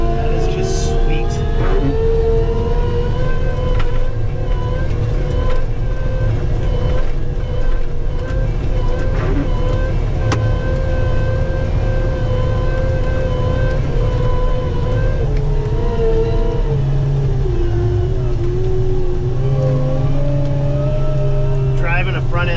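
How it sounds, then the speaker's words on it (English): A new Kubota front end loader's diesel engine runs steadily while driving in snow, a constant low drone with slight shifts in pitch across the whole stretch, loud and close. "Driving a front end loader like this is so much easier than driving a skid loader."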